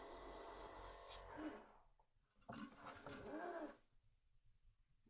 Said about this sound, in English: We're going to spray fairly far away because we don't want to get it too dark.